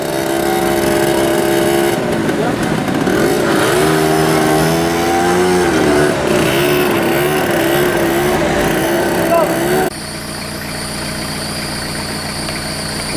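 Several motor scooters rev and drone loudly in a sustained, wavering engine chorus at a road cycling race, pitch rising and falling close by, with a shift to a steadier engine tone near the end.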